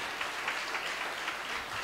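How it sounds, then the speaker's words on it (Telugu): A church congregation applauding loudly for God, a continuous wash of many hands clapping, fairly distant and steady, with no talk over it. "ఆయన్ని బట్టి దేవునికి ఒక్కసారి గట్టిగా చప్పట్లు కొట్టండి"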